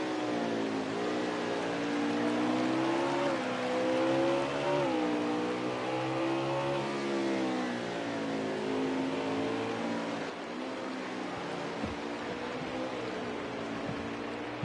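Race car engines roaring in a racing game at Sonoma, several layered engine notes rising and falling as cars rev through gears, loud and continuous with shifting pitch, no voices.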